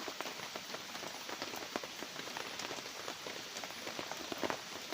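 Steady rain falls in a forest, a dense even hiss with scattered sharp drops pattering on leaves and surfaces, fairly quiet and with no talking.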